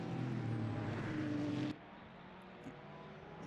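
A Porsche race car in a Le Mans racing game drones loudly along the straight, then the engine note drops abruptly as it lifts off. Quieter car noise continues afterward.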